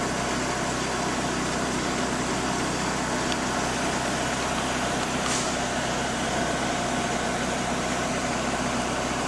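A 2002 Dodge Neon with a P0720 output speed sensor fault runs in place with its wheels spinning, giving a steady, fairly quiet engine drone and low hum throughout, no voices heard.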